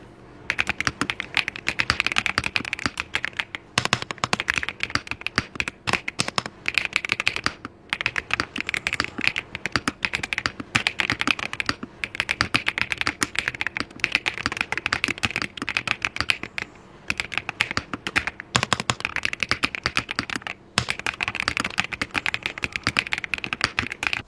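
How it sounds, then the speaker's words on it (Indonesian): A Royal Kludge wireless mechanical keyboard typed on steadily and up close, giving a dense run of creamy, thocky key clacks for over twenty seconds with no speech. "Untuk suaranya, gua pribadi sih suka banget ya. Ini creamy banget. Coba kalian dengerin aja."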